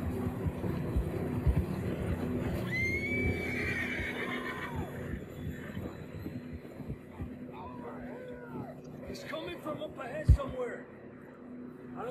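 Horses neigh in the snowy mountains of Red Dead Redemption 2, one long whinny rising loud near the start, then shorter snorts and whinnies later under ongoing talk, with light hoof clops.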